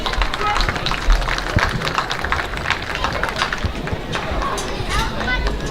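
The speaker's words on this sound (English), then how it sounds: "Let's give these two guys a round of applause." Audience applauding at a junior livestock show, a scattered patter of moderate clapping in a large, reverberant arena with some voices mixed in.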